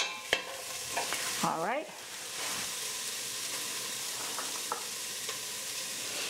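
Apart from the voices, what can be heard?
aromatics frying with red curry paste in a pot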